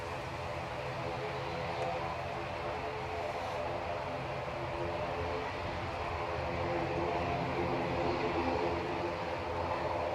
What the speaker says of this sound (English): I'm going to have to shut up because of this noisy prop